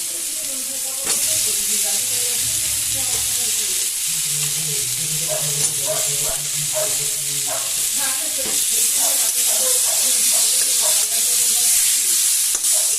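Potatoes and Kashmiri chilli powder fry in a spice paste for a fish curry, a loud continuous sizzle with repeated spoon scrapes and stirring clatter against the pan.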